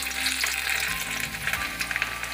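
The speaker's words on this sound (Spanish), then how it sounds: "aquí ya envolví estos tacos. Son los que voy a poner a freír ahorita" Corn tacos sizzle and fry in hot oil in a pan, a loud, steady crackling with bursts of spitting throughout, close up and without any talking.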